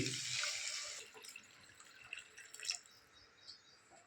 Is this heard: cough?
no